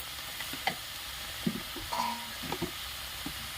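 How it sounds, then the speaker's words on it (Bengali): Slit green chillies and turmeric being sautéed in a pan for a vegetarian fig curry, with scattered stirring scrapes and clinks over a soft, steady sizzle, no talking. "ভালো করে একটু কষিয়ে নেব চিড়ে রাখা কাঁচা লঙ্কা পরিমাণ মতন হলুদ"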